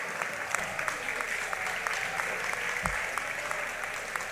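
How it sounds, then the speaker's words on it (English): An audience at a high school underclass awards ceremony applauds marching band, choir, concert band and steel band students with steady, continuous clapping throughout. "Give them a big round of applause."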